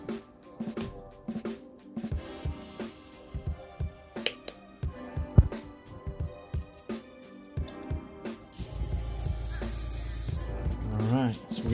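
An airbrush spraying white base coat onto a squarebill fishing lure, heard as short soft hissing bursts between clicks and handling noises, then a longer continuous spray hiss near the end, all close and fairly quiet.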